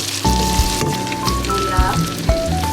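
Onion and garlic sauté in a hot pan for Bisaya paklay, giving a loud, steady sizzle and crackle close to the listener with no voices.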